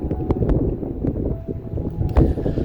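Strong wind gusts over a lake at Wheeler Peak Wilderness roar and buffet across the microphone in a continuous low rumble, swelling in gusts with faint rattling underneath.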